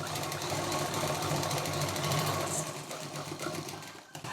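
A sewing machine stitches a belt strap onto a homemade kids' exam bag, running as a steady, close, rapid mechanical chatter that slows briefly near the end, with no speech over it.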